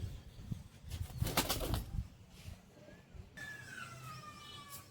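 Pigeons take off in a loud burst of flapping wings that fades within a second or so, followed by quieter rustling and a thin, drawn-out whistle.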